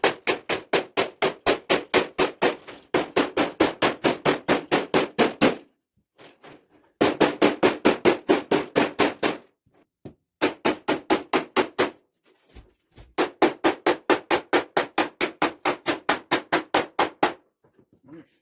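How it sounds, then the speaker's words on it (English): A hammer pounds a sheet metal seam in four long runs of rapid, evenly spaced blows, loud and close, separated by short pauses. "For that, we'll use a trusty old hammer to get that all done."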